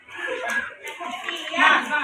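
Classroom hand clapping during a children's clapping game, with a few quick, uneven slaps and claps close by, mixed with steady talking voices.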